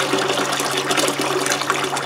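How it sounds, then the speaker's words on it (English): Water gushes steadily into a barrel inside a cottage in winter, a continuous close rushing pour with no other sounds. "water, bring it inside the cottage, and fill the barrel"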